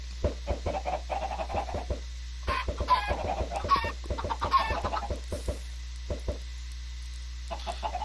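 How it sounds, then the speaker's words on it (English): Chickens spawned from eggs in the Minecraft Skyblock video game cluck in short, close, repeated bursts, with a flurry of overlapping clucks in the middle and sparser ones toward the end. "we're going to just see if we can't spawn some chickens out of that"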